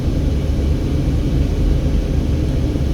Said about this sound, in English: And there's a tourism helicopter up there in the sky.